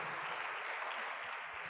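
A church congregation applauds during a Portuguese-language celebration service, a steady, fairly faint wash of clapping that runs without pause and without voices on top.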